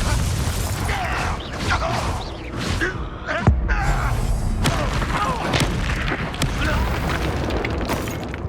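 A Confringo spell in Hogwarts Legacy goes off as a sharp boom and thud midway through a loud, busy stretch of game noise, with a voice speaking around it.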